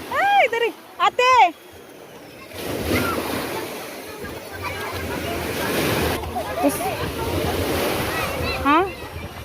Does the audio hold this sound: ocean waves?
yes